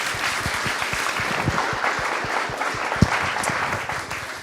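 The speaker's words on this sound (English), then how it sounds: "let's have another big round of applause to all our speakers" An audience at a climate science conference applauds its speakers, with dense, steady hand clapping close by, one sharper clap standing out near the end as the applause begins to fade.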